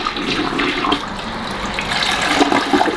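A newly installed one-piece toilet flushes with a strong, close rush of swirling water that gurgles and surges for several seconds without pause.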